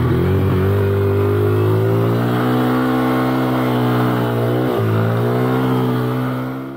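A trail motorcycle engine labours loudly and steadily up a muddy clay hill, a continuous strained drone with a brief dip in pitch partway through, close and alone without talk.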